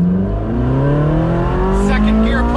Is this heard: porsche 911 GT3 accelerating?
yes